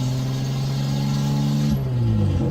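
Datsun 280Z driving along with a steady engine drone that drops in pitch near the end as a gear change comes through, loud and close from inside the cabin, no talking.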